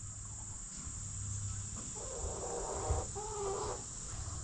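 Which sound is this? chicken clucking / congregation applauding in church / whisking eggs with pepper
chicken clucking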